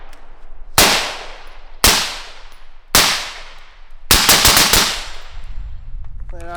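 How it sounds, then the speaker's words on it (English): Suppressed 9mm gunshots from a Texas Underground Armory can on a 16-inch gun: three loud, spaced single shots, then a quick string of several rapid shots, each with a short ringing decay, and a light metallic clink at the end. "Texas Underground Armory 9mm can on a 16-inch gun."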